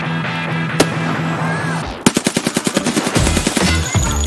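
Gunfire in the video game Escape from Tarkov: a single loud shot, then after a lull a rapid automatic burst of about a dozen sharp close shots, with a few more following, and no voices.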